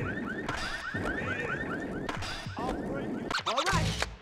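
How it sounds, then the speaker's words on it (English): A car alarm set off in Tony Hawk's Pro Skater 4 chirps in repeated rising electronic sweeps over steady game noise, with a denser burst of wailing tones near the end. "See if you can distract them by setting off the alarms on their cars."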